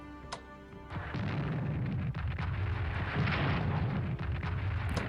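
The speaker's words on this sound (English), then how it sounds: "Two artillery bombardments removes what entrenchments they have left." An artillery bombardment in the WWII strategy game Strategic Command rolls out as a dense, continuous rumble of explosions. It starts after a brief quieter lead-in and stays loud and heavy for the rest of the clip.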